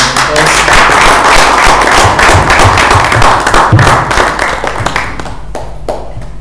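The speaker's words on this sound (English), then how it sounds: "Give a round of applause, please." Dense clapping from a business conference audience, steady and loud, then thinning out toward the end.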